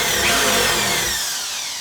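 A power drill whines steadily, close and loud, as it bores out small grommets on an antique fire extinguisher being turned into a Victorian parlor lamp, then fades slightly toward the end.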